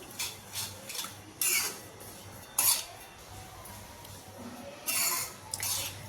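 Red chilli powder masala for a jaggery mango pickle mixed with a spoon, several soft scraping clinks of metal against a bowl in loose bursts, close but quiet, with a low background hum and no speech.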